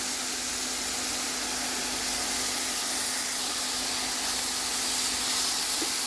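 Sliced onion frying in a pan for a stir-fry egg noodle and beef dish, a steady loud broadband sizzle that stays constant throughout.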